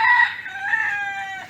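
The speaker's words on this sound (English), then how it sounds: "The cockerel up there with his hens is a little too friendly" A cockerel crows among its hens on Rarotonga in the Cook Islands: one loud, close crow lasting about a second and a half, clear and alone with no talking.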